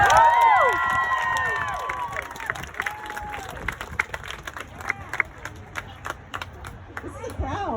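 A rally crowd at an abortion-rights event cheers, whoops and applauds a speaker, loud at first with high shouts, then thins into scattered claps as voices carry on underneath.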